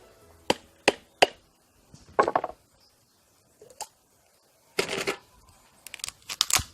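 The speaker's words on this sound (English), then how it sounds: "I break up the coconut" A coconut is broken up with a series of sharp chopping cracks, three quick separate strikes followed by a few rougher splitting and tearing bursts, close and clear over a quiet background, with no talking.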